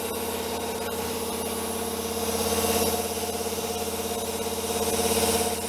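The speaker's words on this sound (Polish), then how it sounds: "Sprężarka zaraz się zacznie dobijać." Under the hood of a Volkswagen Golf IV, the air conditioning compressor runs during a garage refrigerant recharge, a steady droning hum with a strong low tone and a gently pulsing, slightly rising and falling rhythm, close and loud with no talking.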